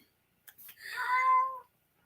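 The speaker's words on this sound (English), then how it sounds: "you can hear my cat in the background." A single drawn-out cat meow, clear and fairly close, rising then falling, in an otherwise quiet room.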